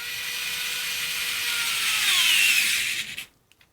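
A Craftsman 4V cordless screwdriver runs in reverse with a steady, close motor whine that rises slightly in pitch before cutting off after about three seconds, leaving a few faint clicks.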